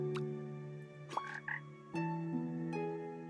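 A frog croaking in the video game Ikonei Island: An Earthlock Adventure, in a river pasture area: a few short, clear croaks spaced about a second apart, heard alone over a steady background music tone.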